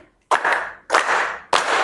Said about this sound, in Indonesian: Setelah itu nampilin ketukannya, kalian ikuti dengan tepuk tangan.